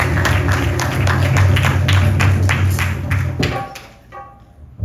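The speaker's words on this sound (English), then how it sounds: "Why don't you put your hands together and give it a nice round of applause." An audience at a 50th birthday yagna celebration claps in a loud, dense burst of applause that carries for several seconds before trailing off into quiet.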